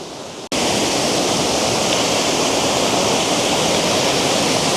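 Waterfall at Lower Campsie Falls, a loud, steady broadband roar of falling water that starts abruptly after a brief quiet moment and continues unbroken and close.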